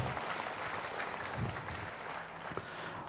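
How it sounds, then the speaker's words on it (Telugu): An audience at a meditation gathering applauds for Sai Kumar Reddy. The clapping is thin and fairly quiet, a soft patter with a few louder claps. "సాయి కుమార్ రెడ్డి సార్ గట్టిగా చప్పట్లు కొడదాం"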